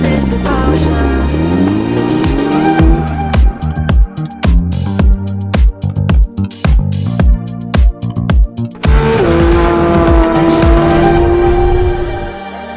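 Porsche 911 992 GT3 lapping a race circuit at a track day, its engine revving hard with rapid upshifts and sharp gaps between gears, then a sustained high-pitched scream as it accelerates, loud and close.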